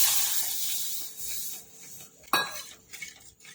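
Spoon stirring milk into a flour roux in a pan for white sauce pasta, soft scraping and rubbing strokes with a sharp clink of metal against the pan midway, close and alone.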